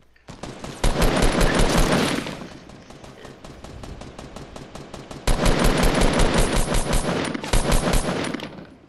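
Rapid automatic gunfire from the video game Fortnite rattles in long bursts of tightly spaced shots, loud and close, easing off into sparser single shots midway before another sustained volley.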